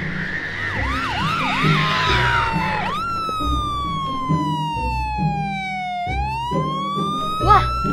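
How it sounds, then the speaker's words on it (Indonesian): Ambulance siren at dusk on a residential street, first a rapid warbling wail, then a long falling tone that rises again, loud and close over a low background hum. "Wah, ada ambulan."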